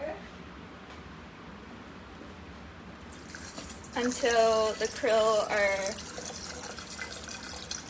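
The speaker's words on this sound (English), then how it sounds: "And then we will fill it up with water" Water poured into a lab beaker holding krill from an ocean sampling, a rushing, splashing fill that starts about halfway through with a voice speaking over it.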